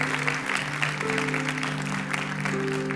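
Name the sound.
congregation applauding in church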